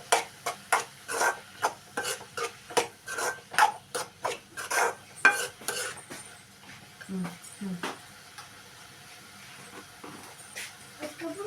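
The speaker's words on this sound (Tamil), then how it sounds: "சிக்கன் மசாலா போட்டுக்கோங்க. நல்லா பெரட்டிக்கிட்டு மூடி வச்சுக்கோங்க." A radish and egg stir-fry seasoned with chicken masala is stirred in a pan, giving a quick series of close, rhythmic scraping strokes that fade to sparser scrapes in the second half.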